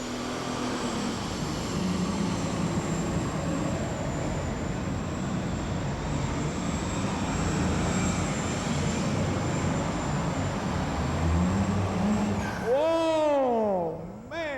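An International tractor in a pull at the 2001 National Farm Machinery Show roars loudly and steadily for the whole stretch, a dense, unbroken engine drone, with rising and falling whistle-like tones near the end.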